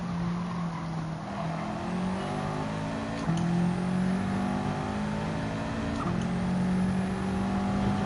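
Gran Turismo 7 race car engine holding a steady high whine, with abrupt gear shifts and rising revs, and other cars faintly audible nearby, loud and continuous with no speech.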